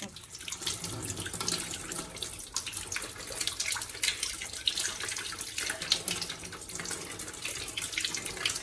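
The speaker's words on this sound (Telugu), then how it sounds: "ఇలా నీట్గా కడుక్కోవాలన్నమాట." Vegetable being washed under a running kitchen tap, a steady broadband rush of water splashing into a sink with small fluctuations, close and continuous with no talk.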